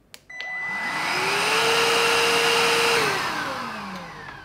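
A Jimmy HW8 wet and dry stick vacuum cleaner switches on with a click, spins up to a loud whirring whine, holds steady for a couple of seconds, then winds down as the motor slows.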